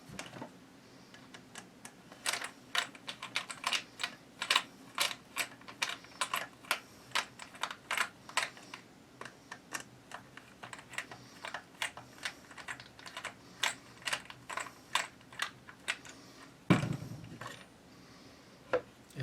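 A small Phillips screwdriver turns the two butt pad screws on a Mossberg Maverick 88 shotgun, giving a long run of close, crisp clicking ticks at a steady ratchet-like pace, with a duller knock near the end.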